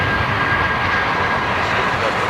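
An Airbus A220, formerly the CS300, passes as a steady, loud jet roar with a broad rumbling wash of engine noise and no talk over it.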